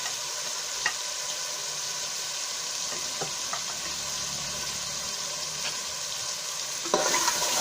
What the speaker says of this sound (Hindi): थोड़ी देर हम आलूओं को भून लेंगे।